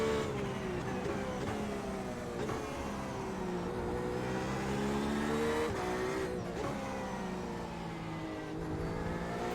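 A race car engine in the iRacing video game roars steadily with shifting pitch as the car accelerates, with faint tire noise underneath, continuous and loud throughout.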